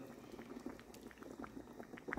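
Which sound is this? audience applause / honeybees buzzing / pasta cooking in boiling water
pasta cooking in boiling water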